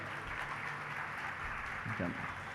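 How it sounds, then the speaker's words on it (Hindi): Applause from a crowd at a religious discourse fills the clip as a steady wash of clapping, with a voice briefly audible underneath. "लेकिन ताली बज रही है"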